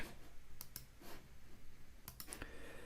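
Sharp computer mouse clicks at a desktop: a pair early on, one more a moment later, then a quick cluster of three or four near the end, close and crisp over faint room hum.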